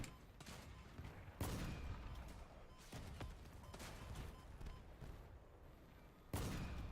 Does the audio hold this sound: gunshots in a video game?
yes